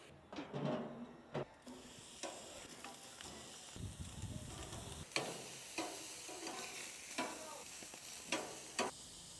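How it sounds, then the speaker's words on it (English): Skirt steak sizzling on a grill, a steady soft frying hiss with scattered crackles and pops, plus a few louder scraping or handling sounds near the start, all fairly quiet and close. "Time to grill."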